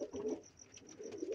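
Pigeons cooing softly nearby, two low throaty coos separated by a short pause, quiet and alone.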